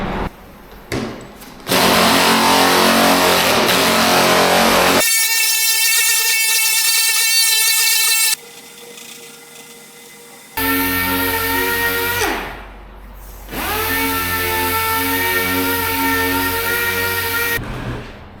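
A power sander works over a finned Cadillac hot rod car body in long, steady whining passes that start, stop and change pitch, loud and close, with no talk.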